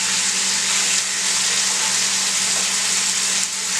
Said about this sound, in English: Okay, it's nice and seared now.